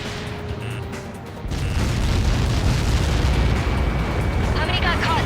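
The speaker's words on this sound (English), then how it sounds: "How many got caught in that explosion?" Massive impact explosion from an incoming projectile strike in the combat flight game Ace Combat 7, erupting suddenly after a quieter lead-in and then roaring as a sustained loud rumble to the end.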